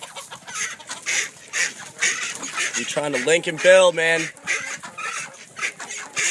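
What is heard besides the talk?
chickens clucking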